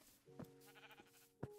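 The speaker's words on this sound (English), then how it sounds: "Oh, I see a sheep." A sheep bleats twice in a video game, with a short call near the start and another near the end, over sustained background music tones.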